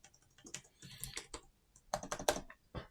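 Fingers tapping on a laptop keyboard at close range, quiet irregular clicks in short bursts with a brief pause midway, no talk.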